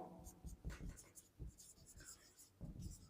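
Chalk or marker scratches across a board during a physics lesson on ray optics, with short, uneven strokes, quiet and close, while a teacher speaks softly between them.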